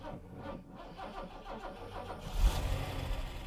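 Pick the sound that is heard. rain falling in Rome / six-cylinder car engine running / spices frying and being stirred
six-cylinder car engine running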